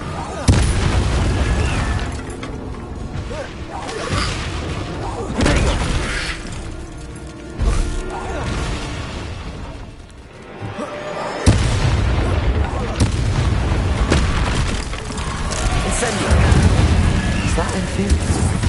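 Loud spell blasts and booming explosions from Incendio and Bombarda casts in the Hogwarts Legacy video game, several heavy bursts in a row, dense and close, with voices talking over them.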